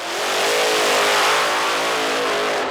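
Drag racing car engine roaring at full throttle, a loud continuous revving blast that swells and holds steady, close and unbroken, with no talking.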